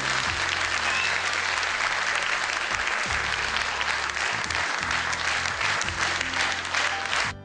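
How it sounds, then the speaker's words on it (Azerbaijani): A theatre audience claps after a performance, filling the space with dense, sustained applause from a large crowd, steady and loud throughout before easing slightly at the end, with faint voices underneath. "Hətta onların gürültülü alqışları bütün yaradıcı kollektivi kövrəltdi."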